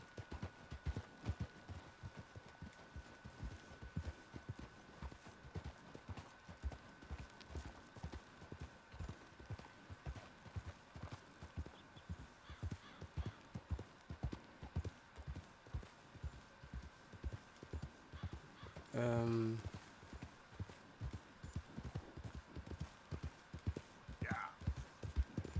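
Rapid, steady hoofbeats of a galloping horse in Red Dead Redemption 2 run continuously. A brief, sharp whinny rises near the end, and the horse neighs once more shortly after.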